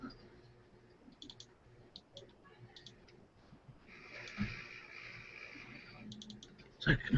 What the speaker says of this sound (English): Sound of mouse clicks.